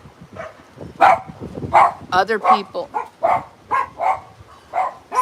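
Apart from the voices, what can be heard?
dogs barking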